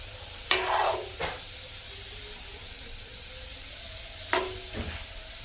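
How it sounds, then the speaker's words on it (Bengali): Food fries in a pan with a steady hiss, broken by two bursts of louder sizzling and scraping as it is stirred, close and without speech. "এইটা ভাজা হচ্ছে, আর এইগুলো ভাজা হয়ে গেছে"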